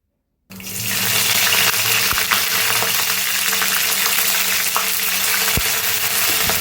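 Mustard seeds and curry leaves hit hot oil and ghee, setting off a sudden, steady, loud sizzle that hisses on close by without pause, with a few faint pops scattered through it.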